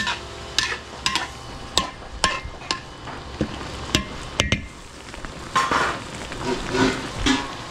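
Mixed seafood and pork sizzle in a pan while the sauce thickens. A utensil stirs and clacks against the pan in sharp, irregular knocks over a steady frying hiss, close by with no talk.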